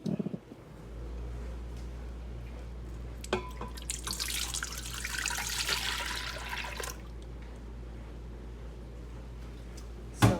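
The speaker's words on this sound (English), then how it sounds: "we're going to pour that into the Instant Pot." Milk pours in a steady splashing stream for a few seconds into an Instant Pot pressure cooker, preceded and followed by a low hum and small clunks.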